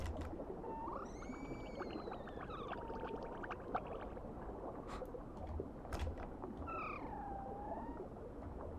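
A baby aquatic creature in a Path of Titans mod gives several high, cat-like mewing calls with gliding pitch, repeated over a steady noisy watery background with no talking.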